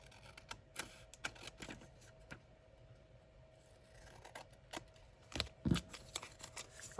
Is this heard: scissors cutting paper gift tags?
yes